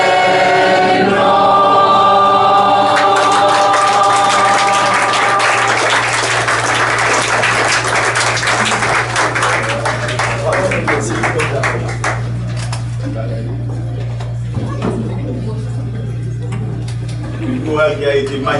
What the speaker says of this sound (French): Je vous demande à nouveau d'applaudir.